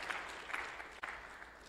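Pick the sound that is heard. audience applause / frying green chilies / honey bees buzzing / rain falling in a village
audience applause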